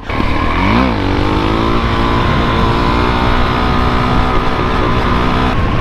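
A motorcycle engine is held at high revs, a loud, close, sustained whine with a brief rise and dip in pitch near the start, then a steady high drone, no talk.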